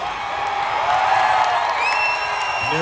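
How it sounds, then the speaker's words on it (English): A large concert crowd roars and cheers in a steady, dense wash of noise that stays loud and continuous throughout. "what a great fucking crowd"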